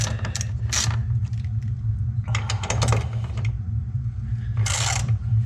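A ratchet loosens bolts on a car's intake grate, giving short bursts of rapid clicking between pauses, close up over a steady low hum.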